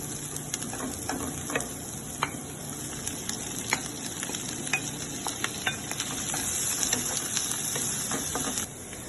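Onion slices and mushrooms frying in melted butter in a pan, a steady soft sizzle broken by frequent sharp crackles and pops, stirred now and then, at low to moderate loudness with no talking.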